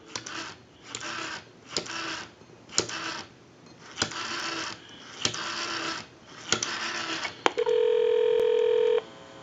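Rapid clusters of short touch-tone telephone keypad tones dialing a time and temperature number, with clicks between each group, followed by a brief steady tone at the end.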